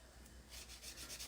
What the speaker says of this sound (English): you kind of have to buff, like, right around